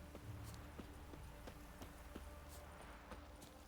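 Roach the horse's hooves clip-clop at a steady, even gait in The Witcher 3, rhythmic thuds over a low ambient hum, quiet and moderately close with no speech.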